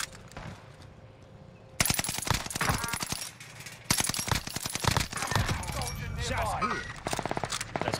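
StG 44 assault rifle fire in the Warzone video game: rapid automatic bursts rattle loudly in long strings, broken by short pauses, with a voice talking intermittently over the shooting.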